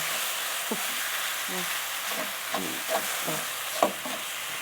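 A Thai curry is stir-fried in a pan, a soft continuous sizzle broken by spatula scrapes and a few sharp clinks.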